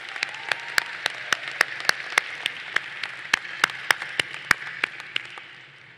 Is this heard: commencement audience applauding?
yes